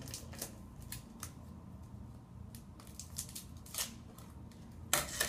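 Scissors snip through baseball card pack wrappers in a quiet room, a series of short crisp cuts and crinkles spaced irregularly, with a louder rustle at the end.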